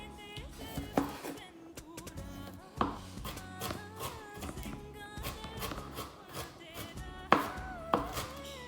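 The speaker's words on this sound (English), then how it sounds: "Chop some ginger and put some ginger." Knife chopping ginger on a cutting board for a spicy chicken curry, a run of irregular close taps and thuds at a brisk, uneven pace.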